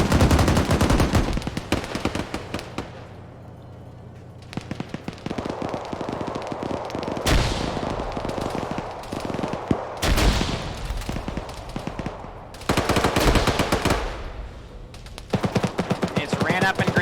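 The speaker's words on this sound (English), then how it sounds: "Revealing that machine gun." Machine gun in a military video game firing long, rapid bursts with brief pauses between, loud and close, broken up by heavier blasts, while voices talk over the gunfire at times.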